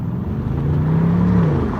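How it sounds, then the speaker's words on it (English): A Mini approaching and passing with a steady, loud engine drone that swells slightly toward the middle, heard from inside a 2019 BMW M850i Convertible with no talking. "And then there's a Mini coming thundering along."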